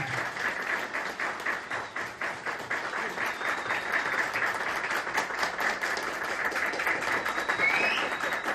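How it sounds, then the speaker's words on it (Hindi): An audience at an awards ceremony for a wellness company applauds in sustained, fairly even clapping that swells slightly toward the end. "मैं चाहूंगा उनके लिए एक बार जोरदार ताली"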